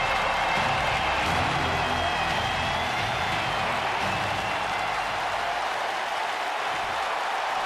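Crowd in a WWE video game arena cheering and applauding for a main event, a dense steady roar of applause and cheers that fades slightly toward the end, with a voice talking faintly over it.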